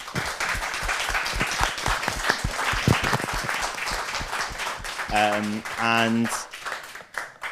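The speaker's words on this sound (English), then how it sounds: "join me in giving them a round of applause" Applause from an audience fills the room, steady clapping throughout, with a few voices talking underneath and some brief tonal sounds near the end.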